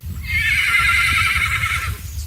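A horse whinnies loudly and close, one long quavering neigh lasting nearly two seconds over a low rumble of hoof and movement noise.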